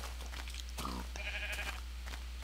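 A sheep in the Minecraft video game gives a short bleat, followed by a second higher bleat, both moderately clear over a steady low background hum.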